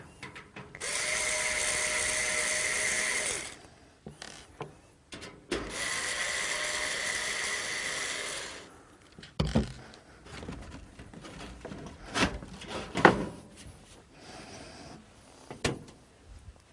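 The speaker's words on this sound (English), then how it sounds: "So I'm going to take that panel off here." A PC case side panel comes off, preceded by two long whirring bursts of a power screwdriver, then scraping, clunks and a few sharp knocks as the panel is handled.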